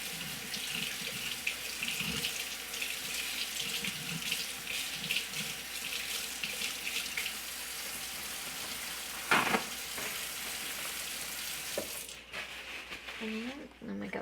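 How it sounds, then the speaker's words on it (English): Tap water runs steadily into a kitchen sink while hands are rinsed during salmon croquette preparation, a continuous close splashing stream with brief shifts in flow before it cuts off near the end. "I have to rinse my hands off."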